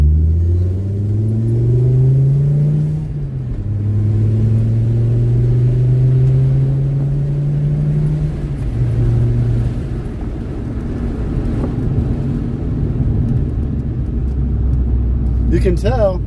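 A car engine labors in second gear, a steady low rumble with rising pitch sweeps as it pulls, people talking over it throughout and a brief higher squeak near the end.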